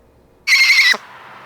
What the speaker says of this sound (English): We've talked a lot about great horned owls today